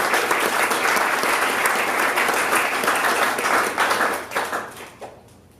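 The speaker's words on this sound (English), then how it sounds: "Clap it up for Zarina one more time." An audience at a Creative Mornings gathering in Tucson gives a speaker a loud round of applause that holds strong, then thins out and fades near the end.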